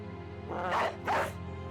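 Dog in the Battle Brothers video game letting out two quick barks in succession, close and moderately loud over a low game ambience.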